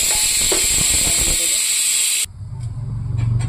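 Pressure cooker releasing steam, a loud continuous close hiss that cuts off abruptly, followed by a lower rumbling bubble as it settles.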